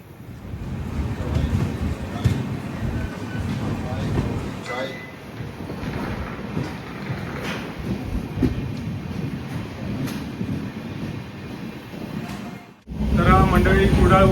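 A train pulls out of Kudal station in the Konkan, its low rumble steady and loud throughout, then a sharp cut to a fresh burst of rolling noise near the end.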